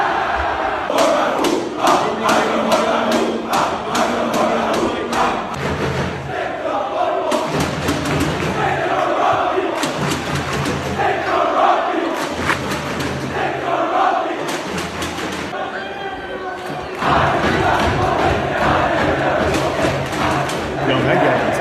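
Rival home and away student sections at a basketball game yelling back and forth, a dense, loud crowd roar with rhythmic chanted bursts and thumps, continuous throughout with talk over it.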